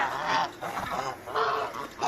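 Domestic poultry kept shut indoors call with repeated nasal honking cries, several in quick succession, heard fairly close with no speech.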